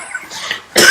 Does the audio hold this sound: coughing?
yes